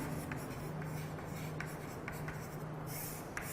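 Quiet, scratchy strokes of writing on a board during a maths lesson on matrices, soft and intermittent over a low steady room hum, with no talking.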